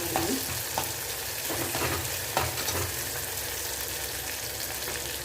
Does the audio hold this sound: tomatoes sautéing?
yes